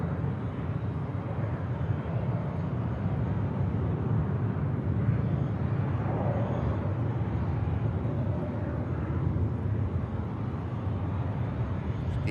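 A Finnair Airbus A320 airliner at the airport intersection gives off a continuous low jet engine rumble and roar, steady and moderately distant, with no voices.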